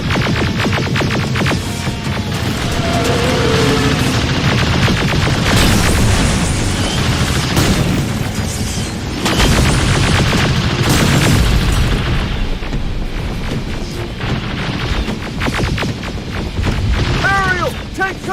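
Gunfire and explosions in Terminator: Resistance, heavy rumbling booms and dense bursts of shots layered over a low throbbing drone, loud and continuous with shouted voices in the mix.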